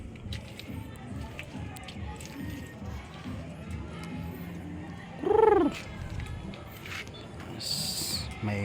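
A Chinese pigeon gives a short, clear cooing call midway through, over steady background noise and surrounding speech-like chatter.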